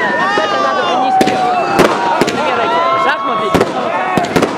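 A birthday fireworks display crackles and bangs, with sharp bursts going off at irregular intervals over a steady whistling, hissing background, while voices talk and call out throughout.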